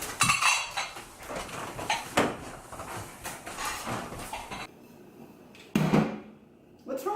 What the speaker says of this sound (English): Peggy, help me take away the dishes